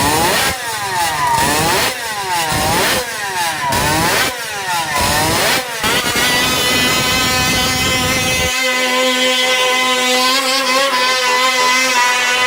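A Suzuki RK67 50cc two-stroke three-cylinder racing motorcycle revs hard through repeated shrill bursts, rising and dropping several times, then settles into a high, steady buzzing whine, loud and close.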